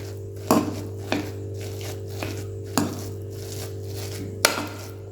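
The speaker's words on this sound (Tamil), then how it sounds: "இப்போ இந்த மாதிரி ஒரு கரண்டியை வச்சு நல்லா மசிச்சு விட்டுக்கோங்க" A ladle mashing hot cooked rice in a pot, five spaced soft thuds and scrapes against the pot over a low steady hum, close and without talk.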